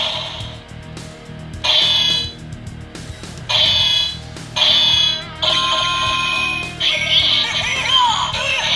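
A DX Tega Sword Gozyuger transformation toy plays electronic sound effects after a button press: bursts of bright, warbling synthetic tones with stuttering pauses, fairly loud and close, over faint handling noise.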